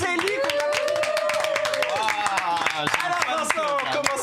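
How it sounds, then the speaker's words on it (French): A studio audience on a French television show claps along in quick, sharp bursts, with a voice and other sounds running over the clapping. "on l'applaudit bien fort"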